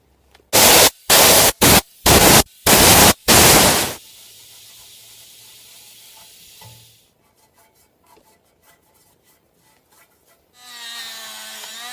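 Compressed air blasts debris off brake parts on a 2003 Suzuki Grand Vitara 2.5 V6 during a rotor and pad job: five or six loud, sharp hissing bursts in quick succession, followed by quieter workshop rubbing and a final steady hiss.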